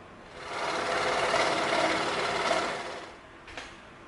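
A scroll saw buzzes steadily up close as it cuts through 10mm EVA foam, a continuous reciprocating whir that swells for a few seconds and then winds down.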